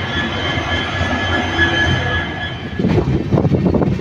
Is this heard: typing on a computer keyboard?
no